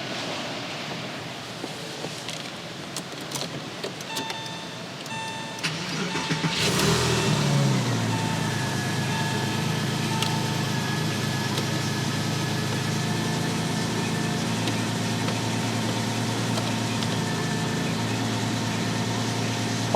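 A 2000 Porsche 911 cranks and fires up about halfway in, then settles into a steady, close idle with a continuous low engine hum.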